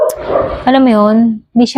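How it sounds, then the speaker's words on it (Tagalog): A dog barks and yips close by while someone speaks, with a drawn-out whining bark and then two short yips at the end. "pasensya na sa ingay ng aking aso"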